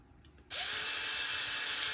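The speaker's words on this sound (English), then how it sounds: "I prefer though drilling a hole and putting wiring." A power drill kicks on abruptly after a brief quiet moment and whines steadily at high speed, loud and close, drilling a hole in a flocked grapevine reindeer decoration.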